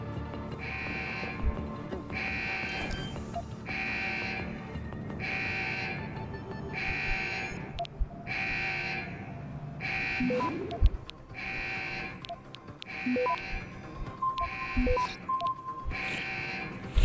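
Alarm in Deus Ex: Human Revolution: a steady series of regular buzzing electronic pulses, about one per second, repeating loudly throughout with game background noise and a few clicks underneath.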